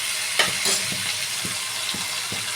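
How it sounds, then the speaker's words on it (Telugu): Tomato and onion fry together in a pan for egg curry, giving a steady soft sizzle with a few light stirring scrapes and clinks spread through the short stretch, close and moderately loud, with no talking. "టమాటా ఆనియన్ వేగేంత వరకు ఒక 5 మినిట్స్ మగ్గనిద్దామండి"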